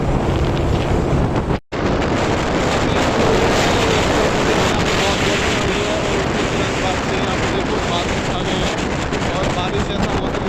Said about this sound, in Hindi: हमारे जो लेफ्ट साइड में है वो मंदाकिनी नदी ही बह रही है यहाँ पे